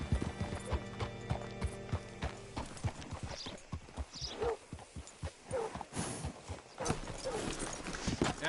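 Horse hooves clip-clopping in Red Dead Redemption 2, a steady rhythm of close hoofbeats with a brief whinny partway through, over quiet game ambience.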